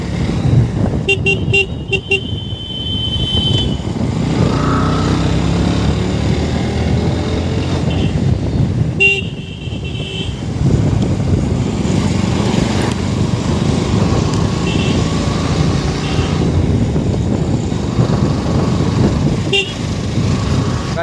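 Motorbike ride on a wet road during evening stunt practice, tires slipping on water; loud, steady engine and road noise runs throughout, with car horns tooting now and then and nearby traffic passing.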